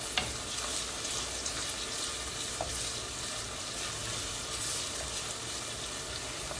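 Peppers and onions for meatless efo riro sizzle and fry steadily in a pan over medium heat, a constant close hiss with a few faint stirring knocks and no voices.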